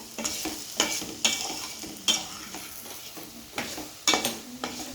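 Boiled potatoes being stirred into an aloo barada curry in a pan, with repeated sharp scraping strokes of a spoon against the metal and a soft sizzle between them, close and fairly loud with no talking.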